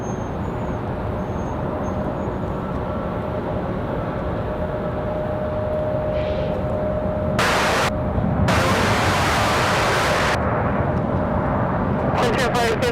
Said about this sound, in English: Going to be a nice touchdown here for Frontier.